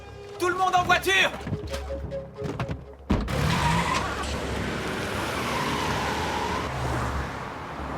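Several cars starting off and skidding, with engines revving, a tire squeal and a sharp bang, then a sustained roar of motors and rushing tire noise, heard amid other sounds of a dramatic scene.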